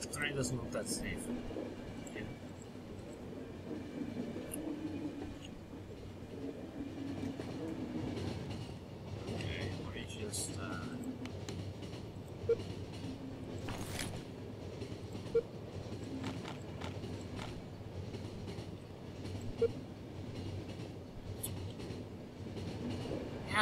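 In The Final Station, a train runs along the rails with a continuous low rumble and faint rhythmic clatter. It is quiet and steady throughout, with a few brief clicks and occasional faint sounds over the top.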